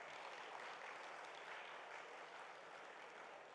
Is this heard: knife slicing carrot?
no